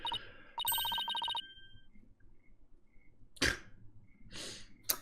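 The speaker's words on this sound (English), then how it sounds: "The Discord notifications are going crazy right now" A burst of bright electronic notification chimes from the Discord app, a rapid ringing cluster followed by scattered short pings and a couple of sharp noisy bursts, fairly quiet with no talking.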